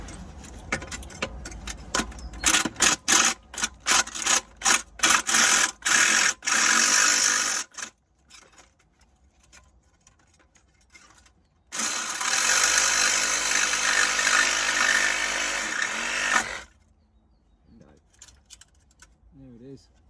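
A small cutting wheel bites through tough exhaust pipe metal on a BMW 3 Series 318d/320d, with loud, choppy grinding bursts first and then a long steady cut that stops abruptly.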